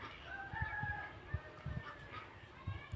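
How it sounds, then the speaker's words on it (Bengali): Ducks on a village pond give scattered, irregular quacks and calls at moderate distance, with soft thumps and low outdoor background noise. "পুকুরের হাঁস।"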